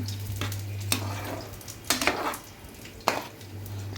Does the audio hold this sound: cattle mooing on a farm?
no